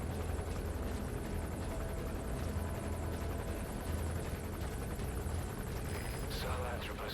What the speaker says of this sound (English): Or he might be getting picked up by a heli.